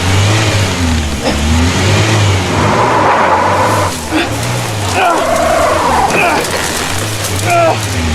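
A car engine revs and climbs as the clutch is let out, loud and sustained for several seconds, with excited voices shouting over it.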